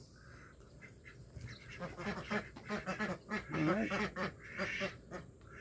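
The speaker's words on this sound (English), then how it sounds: "Ducks." Ducks on a Korean countryside farm quack in a lively run of calls, close and fairly loud after a quiet start, with a brief spoken remark near the end.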